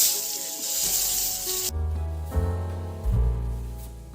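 Three pomfret fish go into hot oil in a wok on a gas stove. A loud, bright hiss gives way to a deeper, bubbling sizzle with a few sputtering surges, all close by and with no speech.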